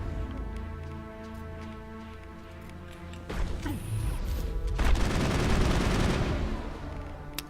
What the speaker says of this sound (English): Let me see if my assault rifle is back.